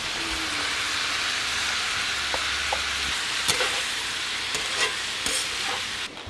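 Apples and onions go into a pan of pork with sage, sending up a steady, close sizzle of frying with a few scraping clicks of stirring and no talking.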